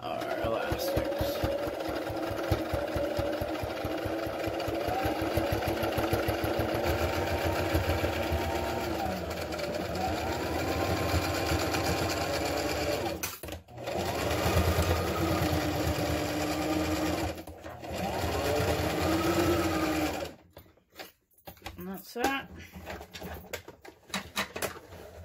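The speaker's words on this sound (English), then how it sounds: "I just sew it in a little bit from the edge just because this is really thick from all of our sewing" A sewing machine stitches close to the edge of a thick surgical mask with bias tape, a loud, rapid mechanical whir that runs steadily, pauses briefly, resumes, then stops.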